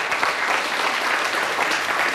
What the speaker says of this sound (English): Oh, that deserves a round of applause